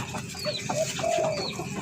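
Backyard farm chickens raised at home give a few short clucks and throaty calls at close range, set against a soft background hiss.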